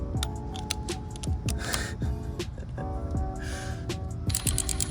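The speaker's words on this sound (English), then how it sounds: "to this ratchet here. And surprisingly, this has enough torque." A ratchet drives a 1/2-inch-to-3/8-inch drive adapter and an extension to turn a bolt on a Lexus, making a rapid, close mechanical clicking in repeated bursts.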